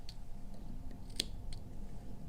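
Flapton vape coil wire is trimmed at the posts, giving a single crisp snip from small cutters, with a few fainter clicks around it and otherwise quiet surroundings.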